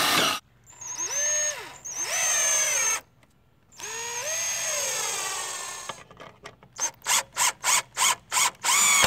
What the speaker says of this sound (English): So first thing I'm going to do is just do all of the mortises for the countersinks first.